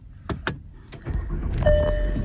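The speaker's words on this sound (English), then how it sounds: "Let me turn the car on so there's some light" A car being switched on at night: a few sharp clicks and thumps, then a rising electrical whir and a steady tonal chime-like hum as the vehicle powers up, close and clear.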